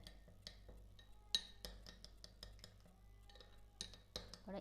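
A metal utensil mixes Kashmiri red chili powder into egg chili, with repeated close clinks and scrapes against the pan in an irregular stirring rhythm, quiet and without talk.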